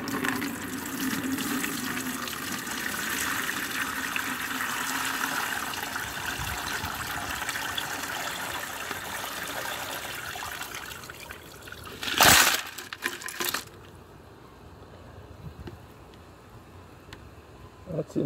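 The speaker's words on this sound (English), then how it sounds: "all the liquid in the bucket is going to get filtered through coffee filters into that beaker" An acid and peroxide liquid trickles softly through coffee filters into a beaker, making a faint, steady wet patter with a brief louder splash near the end.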